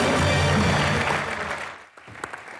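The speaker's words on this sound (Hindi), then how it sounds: "एक बार जोरदार ताली" A studio audience at a comedy show claps loudly for a couple of seconds, the applause fading out into quiet.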